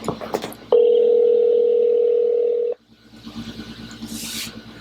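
A phone on speakerphone plays a single steady dialing tone lasting about two seconds, loud and close, with faint room sounds and handling noise before and after.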